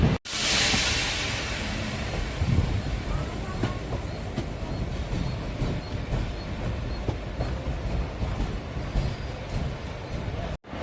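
The Erode to Mettur Dam express train runs along its line, heard from on board as a loud steady rumble with rhythmic clickety-clack of the wheels over the rail joints and a rush of wind.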